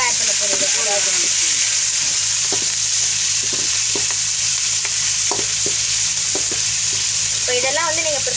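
Lentils and gooseberries sizzle steadily in a hot pan while a spoon scrapes and stirs in repeated clicks and taps.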